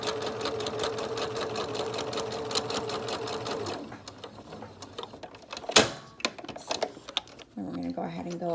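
A Singer sewing machine stitches fabric for a face mask, running in a steady, rapid mechanical chatter for about four seconds, then stopping, leaving quieter handling noises and a sharp knock.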